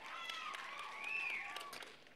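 An audience at a live spoken-word show at the Crest Theater in Sacramento claps and cheers, a faint, distant wash of applause with crowd voices swelling briefly and fading.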